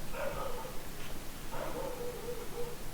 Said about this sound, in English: Sorry, there's a dog barking.